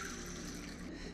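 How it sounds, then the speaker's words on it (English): Water is poured into a glass vase holding Tradescantia Pistachio plant cuttings, giving a steady, close trickling pour that runs unbroken for about a second with no talking over it. "Let's just put some water in it before I forget."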